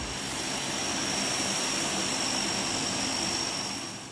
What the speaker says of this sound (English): One such example is the engine start of the C-130 Hercules.